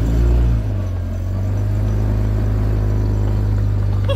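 A boat engine in the Caribbean Sea off Bonaire and Aruba gives a loud, close, low droning rumble with a steady tonal hum, slightly stronger at the start and then holding even, with no voices.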